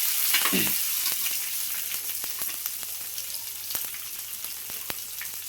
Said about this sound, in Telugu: తాలింపు గింజలు వేగినవి ఉల్లిపాయ పచ్చిమిరపకాయ